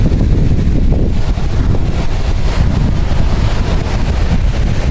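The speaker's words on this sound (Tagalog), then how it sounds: "Laki ng alon ngayon, no?" Big ocean waves break on a beach in a loud, continuous roar, heavily mixed with gusty wind buffeting close to the microphone, and no one speaks.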